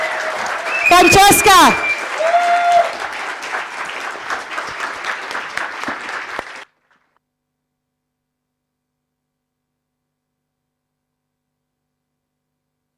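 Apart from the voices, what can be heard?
audience cheering and applause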